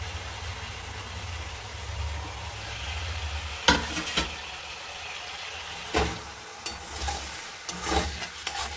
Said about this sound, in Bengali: পেঁয়াজটা দিয়ে এবার এটাকে ভালো করে নাড়িয়ে নিতে হবে।